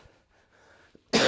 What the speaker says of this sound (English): I'm surprised I managed to last right until the end of the session to do that first cough